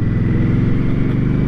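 A 2023 Indian Scout motorcycle runs steadily while being ridden, a loud, close, even engine drone with a smooth pulsing rumble and no pauses.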